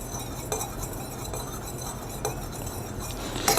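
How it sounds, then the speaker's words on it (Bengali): A water and hydrogen peroxide mix for homemade hand sanitizer is stirred in a container, a soft steady swirl with a few light clinks of the utensil against the side, close and quiet with no talking. "এটা খুব ভালোভাবে আমি নেড়ে নেব।"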